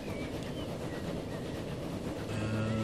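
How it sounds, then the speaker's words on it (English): Long train running on rails in the Transport Fever game, a continuous rumbling roll with faint rhythmic clatter, moderately quiet and steady, slightly swelling near the end, no voices. "I like riding the longest trains."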